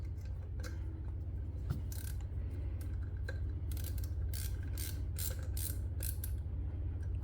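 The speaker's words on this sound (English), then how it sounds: "when you are putting the factory screws back in, you don't want to over tighten them" Factory screws being tightened on the LED light board of an S650 Mustang, a quiet close series of small ratcheting clicks and creaks from the screwdriver, irregular and faint over a low steady hum.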